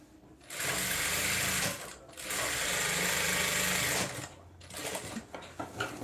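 Sewing machine running in fast, buzzing stitching bursts while joining a sleeve seam, with a brief pause, then a second long run and a few short stops at the end, close by.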